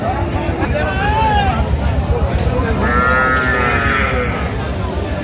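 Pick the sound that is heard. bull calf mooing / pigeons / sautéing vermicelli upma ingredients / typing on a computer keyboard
bull calf mooing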